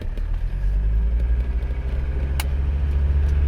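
A Mercedes 300CD engine runs under load as the car pulls away, a deep steady rumble with a faint rise in revs and a brief click partway through, close and loud with no voices.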